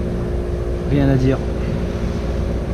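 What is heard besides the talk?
boat engine running while motoring at sea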